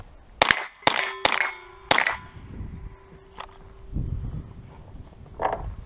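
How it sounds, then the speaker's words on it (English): Bolt-action rimfire rifle fired outdoors at targets, four sharp cracks in quick succession, each followed by a ringing steel ping, then fainter distant hits and rustling. "Bolt action rifle."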